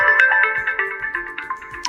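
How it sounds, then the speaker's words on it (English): Nature-themed ringtone previewing on an OPPO Reno 14 FS phone, a bright melodic tone with chirpy repeating notes playing steadily and fairly loud on its own. "in order to listen how the particular ringtone sounds, you have to basically tap on it"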